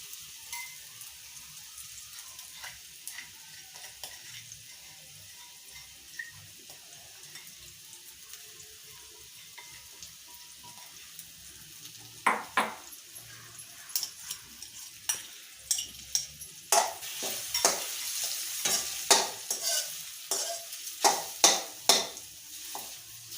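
Soaked ground fenugreek mixture lightly roasting in a pan for laddu, a soft low sizzle that grows into repeated scraping and stirring strokes, louder and more frequent in the second half.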